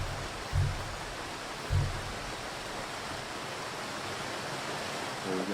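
A river flows steadily through a forest in a survival video game, a continuous broadband rush of water at moderate level, with two brief low thumps near the start.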